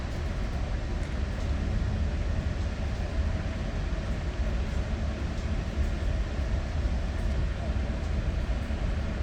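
An exo commuter train departs Ahuntsic station on the Mascouche Line in winter, its steady rumbling roar close and continuous throughout with no break in the low, dense rolling noise.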